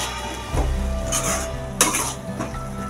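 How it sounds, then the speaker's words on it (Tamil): Ginger garlic paste sautéed in a pan for paneer butter masala, heard as a spoon scraping and stirring against the metal with soft sizzling and a couple of sharper clinks, close and steady throughout. "இஞ்சி பூண்டு பேஸ்ட் 1 ஸ்பூன், இந்த மாதிரி நல்லா வதக்கிக்கணும்"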